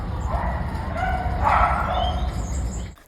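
Puppies inside a dog breeding facility let out a string of high, yelping barks and whiny yips, close and fairly loud against a steady indoor hum, rising in intensity midway before trailing off.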